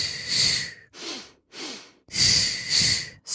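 Paired breaths during the Pilates hundreds exercise, audible close inhales and exhales in a steady rhythm, two short breaths followed by two longer ones, with no talking.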